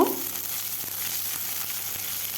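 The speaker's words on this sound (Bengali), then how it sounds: "তারপর দিয়ে দেব কেটে রাখা পেঁয়াজ পেঁয়াজটাকেও দিয়ে কিছুক্ষণ ভেজে নেব" Chopped onions frying in hot oil with tempering spices for a Bengali kharkol leaf paste, a steady close sizzle with occasional soft stirring scrapes.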